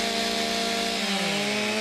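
A chainsaw runs loud and close on scorched, rugged wildfire terrain during fire crew work, with a steady buzzing drone whose pitch dips slightly midway.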